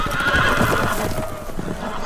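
Loud horse whinnies over clip-clopping hooves in the video game Game of Thrones, close and dense, like a small group of loose horses neighing at once.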